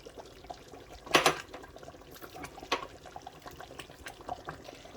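Onions hitting a hot pot while cooking a palm-nut seed sauce (sauce graine): fairly faint, with a sharp sputtering burst, then a smaller spatter and scattered crackles.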